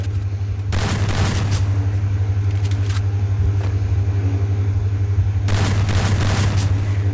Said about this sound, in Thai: ไอพวกเล่นระเบิด